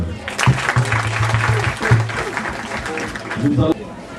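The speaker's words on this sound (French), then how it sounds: "On applaudit un peu." Audience applause at a church anniversary gathering for a prophet, a steady wash of clapping from a crowd, with a voice speaking over it partway through before it cuts off sharply.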